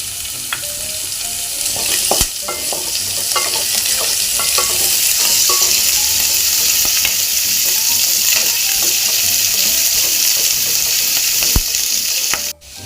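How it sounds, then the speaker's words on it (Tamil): Onions sautéing in a pan for a capsicum soya gravy, a steady close sizzle that runs throughout with occasional light clicks and stirring scrapes, no voices. "வெங்காயம் நல்லா பொன்னிறமாக வதங்கிடுச்சு."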